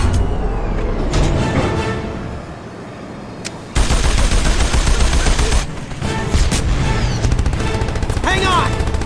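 Mounted gun firing in the Jak and Daxter video game: bursts of rapid automatic fire come in loud blocks, mixed with explosions, engine noise and game effects, with brief character voices in between.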